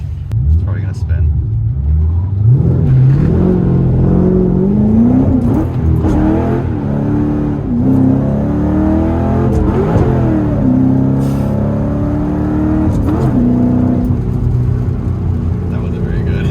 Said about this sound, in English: I want to try to do a 1-2-3 shift with the no lift shift. It's probably gonna spin.